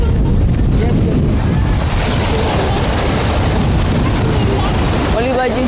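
Cool sea wind blowing at Chowpatty beach rushes steadily and loudly across the microphone, a dense roar with crowd chatter and voices underneath throughout.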